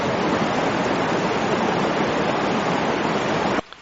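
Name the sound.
creek water flowing under a bridge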